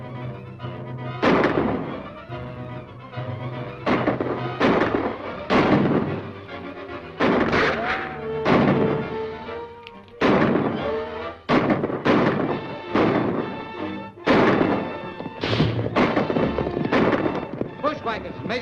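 Grenade explosions in a 1941 western film thump repeatedly in sharp, loud bursts spaced a second or two apart, mixed with gunfire-like cracks, and voices can be heard between them.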